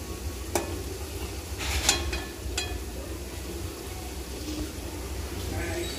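Finished curry with coriander leaves is stirred in a cooking pot, a soft sizzle with a few scattered spoon clicks and scrapes, while someone talks.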